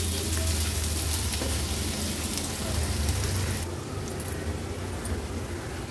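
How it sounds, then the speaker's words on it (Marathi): Chopped onion frying in oil in a pan, a steady close crackling sizzle that continues throughout and softens slightly toward the end. "कांदा थोडासा तेलावर परतून घेतला ना"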